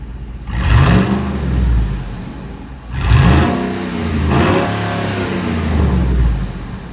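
A Ford V8 Raptor's aftermarket exhaust blips loud and close in two long rev bursts, each swelling to a deep roar and dropping back to a rumbling idle, with no voices.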